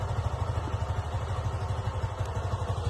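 A motorcycle engine idles steadily just after starting, with a low, even, pulsing thrum that keeps a regular beat throughout and stays close and moderately loud, with no talk over it.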